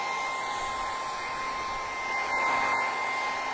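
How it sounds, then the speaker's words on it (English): A hairdryer blows steadily and close by while drying wood stain on a step stool, a continuous airy whir with a faint high whine that holds throughout. "even faster with a hairdryer."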